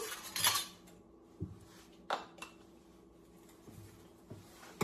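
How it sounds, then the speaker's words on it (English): Hot banana pepper jelly being ladled into jars, with a metal ladle clinking and scraping against glass and pot in scattered knocks, close and intermittent, no talking. "now we're just gonna ladle these into my jars"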